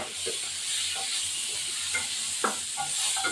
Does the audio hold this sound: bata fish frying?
yes